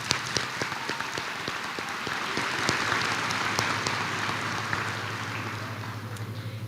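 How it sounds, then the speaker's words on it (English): A graduation audience in a large hall applauds the high school salutatorian, steady dense clapping that swells in the middle and holds at moderate loudness throughout, with no voices on top. "just give her a round of applause"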